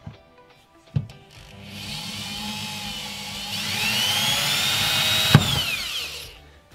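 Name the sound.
hammer drill boring with small bit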